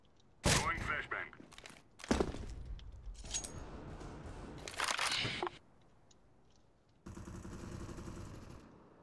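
A flashbang grenade goes off in CS:GO: several sharp, loud bursts and clatter, then a sustained hissing tone near the end, with a voice speaking over part of it.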